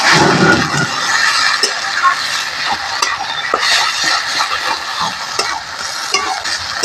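Shrimp, ground garlic and chili hit a hot pan and sizzle steadily throughout, a loud continuous fry with brief stirring scrapes now and then, no voices.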